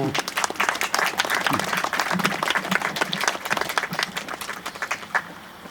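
Audience applause for schoolchildren from CM1 and CE2 classes at a commemorative ceremony, a dense steady clapping from a sizeable crowd lasting several seconds before tapering off.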